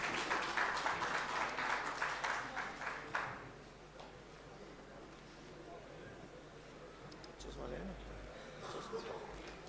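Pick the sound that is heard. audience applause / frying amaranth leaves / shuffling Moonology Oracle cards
audience applause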